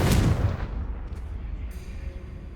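A Confringo blasting spell explodes in Hogwarts Legacy, a loud booming blast at the start that rolls off into a noisy, fading rumble.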